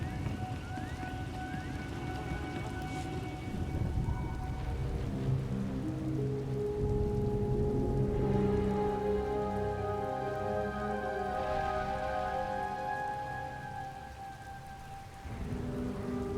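Steady rain pours throughout a stormy scene in an audio drama, a dense close hiss with low rumbling thunder and sustained musical tones beneath it, easing briefly near the end.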